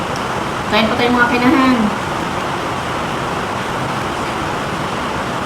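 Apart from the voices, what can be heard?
rain falling outside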